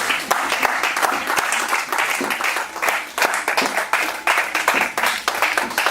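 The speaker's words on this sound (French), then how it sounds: "On acclame très fort pour le Seigneur." A church congregation at a Christian intercession gathering claps and cheers loudly, a dense and steady wash of applause that surges in waves across the whole span.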